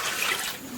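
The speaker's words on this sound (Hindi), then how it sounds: "चलें जी, पानी तो इसमें ऐड कर दिया।" Brief rush of water splashing into a cooking pot over browned biryani ingredients, a bright, hissing pour heard alone for under a second.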